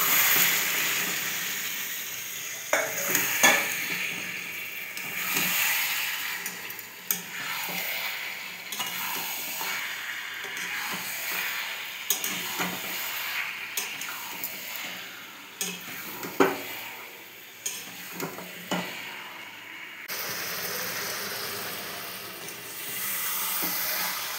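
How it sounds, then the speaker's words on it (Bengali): Marinated mutton and chopped tomato stir-fry in an oiled pan for homemade biryani, with a continuous hissing sizzle and repeated spatula scrapes and knocks against the metal, heard close with no talking. "ম্যারিনেট করে রাখা মাটনটা এবার দিয়ে দিলাম, দিয়ে খুব ভালো করে কষিয়ে নেব।"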